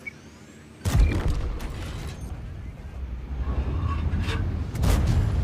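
A tank shell slams into a Centurion Mk. 5/1 RAAC from behind in World of Tanks, a sudden loud boom followed by a rumbling engine and mechanical clatter, with another heavy thud near the end.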